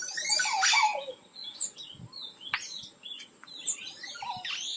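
Montezuma oropendola calling in a Costa Rican forest, with a series of varied chirps, whistles and liquid gurgling notes rising and falling over several seconds, fairly close and clear, with no talking.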